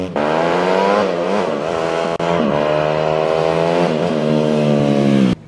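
A Yamaha YZ250F motorcycle engine runs close and loud with a steady buzzing drone, rising in a few quick blips of revving before cutting off at the end.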